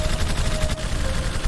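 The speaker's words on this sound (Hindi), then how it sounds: "गोलीबारी की आवाजें गूंज रही थी" Continuous rapid gunfire from the 1965 battle at Haji Pir Pass crackles steadily, a dense stream of shots blending into a rough, sustained roar.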